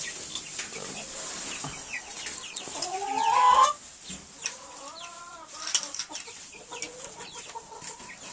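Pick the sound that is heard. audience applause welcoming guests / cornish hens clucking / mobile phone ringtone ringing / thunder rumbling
cornish hens clucking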